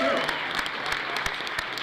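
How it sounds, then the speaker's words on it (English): A live comedy show audience claps at the opening of a taping at a Baltimore club, the applause moderate and steady for a couple of seconds, with faint talking mixed in. "Oh, yeah, you can clap for that"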